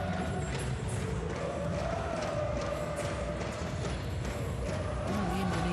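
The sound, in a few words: Indonesian fans singing and cheering at a badminton match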